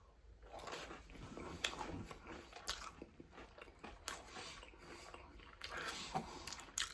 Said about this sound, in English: I'm going to take a little taste here.